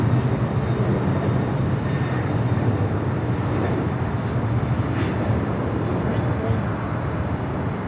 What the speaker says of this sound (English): DHL 767, taking off there on the south side, 25 to left.